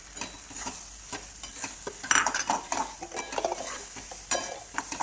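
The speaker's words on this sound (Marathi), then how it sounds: "परत असं जीव करायचं त्याचा, छान हलवायचं." Mango pieces are stirred into semolina sheera with ghee in a pan, giving repeated scraping and clinking spoon strokes over a soft sizzle, close and uneven in rhythm.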